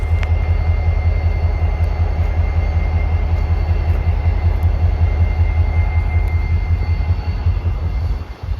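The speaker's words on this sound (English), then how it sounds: "this train was going slow enough that I was able to walk right beside it and pace it" A freight train rolls slowly past at close range near a Florida rail yard, its steady low rumble and clatter of wagons continuing unbroken throughout, with faint metallic squeals above.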